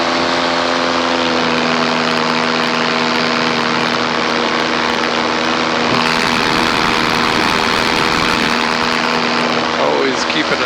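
A paramotor's engine and propeller drone steadily in flight, loud and close, with a constant tonal hum throughout that swells slightly partway through.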